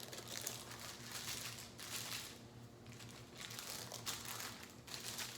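Chicken sealed in a plastic bag is pounded flat while margarita chicken is prepared. Soft crinkling and dull thumps of plastic repeat in close, quiet bursts.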